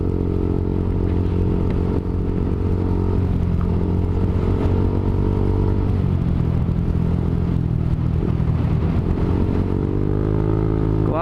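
Motorcycle with poor suspension rides over a potholed, rough road, its engine droning steadily and loudly throughout while the pitch shifts and bumps clatter and rumble underneath.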